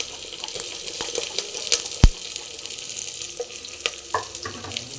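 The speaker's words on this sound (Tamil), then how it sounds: "நல்லா அந்த வெங்காயம் நல்லா ஃப்ரை ஆகட்டும்" Chopped onions fry in a pan of oil while greens are cooked, giving a steady close sizzling hiss with a few small pops and one sharper tap of a utensil.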